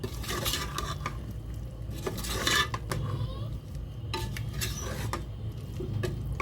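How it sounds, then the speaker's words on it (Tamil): Mutton liver and potato masala stirred in a pan, with a spoon scraping and clinking against metal in quick repeated strokes over a low sizzle, close and fairly loud, with no talking. "நல்லா மிக்ஸ் பண்ணி விடுங்க."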